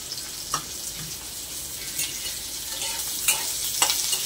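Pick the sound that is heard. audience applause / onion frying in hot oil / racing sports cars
onion frying in hot oil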